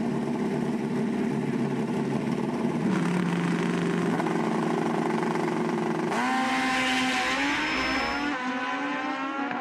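Kawasaki drag racing motorcycles at a spring nationals drag meet roar loudly and continuously, engines holding high revs then surging as they launch and accelerate down the strip.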